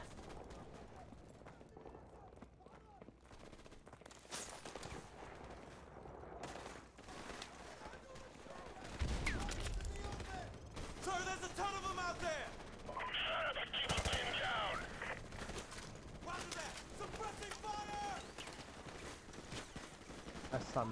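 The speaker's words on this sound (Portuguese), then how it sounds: "use a machine gun." Machine gun fire and scattered gunshots in the Call of Duty: Modern Warfare Remastered shooter, bursts of cracks rising in the second half under frequent talking and game sounds.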